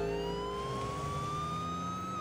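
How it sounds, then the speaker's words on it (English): Police car sirens wail steadily with a slowly rising tone over a low vehicle rumble, loud and continuous with no talk. "What are all those police cars doing here?"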